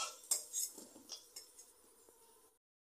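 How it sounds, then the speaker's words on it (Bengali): A few light metal clinks of a spatula against a pan as fried potatoes are lifted out, faint and close, with no talking. "আলুটা ভাজা হয়ে গেছে, আমি তুলে নিলাম।"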